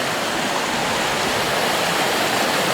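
Water in a stream flows over gravel at an inside bend after recent rain, a steady, dense close rush of broadband hiss with no pauses and no voices.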